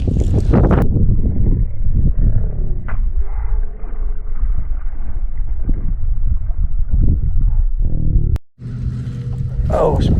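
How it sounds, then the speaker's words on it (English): Loud wind buffets a riverbank during late-fall bank fishing for crappie, roaring steadily against the microphone, with a voice heard at the very start. "Here comes that wind."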